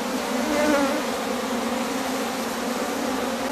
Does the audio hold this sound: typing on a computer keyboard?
no